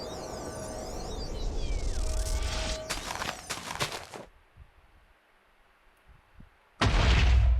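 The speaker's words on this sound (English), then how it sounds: "the plasma cannon is basically a big ass bomb that just explodes the area around it" A plasma cannon detonates like a large bomb in a video game, a heavy booming blast with crackling debris that fades into quiet rumble before a second loud burst hits.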